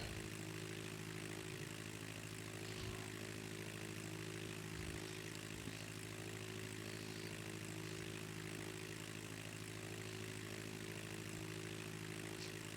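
A small propeller plane's engine in a flight video game drones steadily and evenly throughout, a constant humming buzz with no pauses or changes in pitch.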